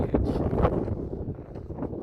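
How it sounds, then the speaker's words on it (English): Gusts buffet the microphone on a desert hiking trail at Cottonwood Springs in Joshua Tree National Park, giving irregular low rumbling bursts and rustling that rise and fall over two seconds. "Forgive me if it's windy."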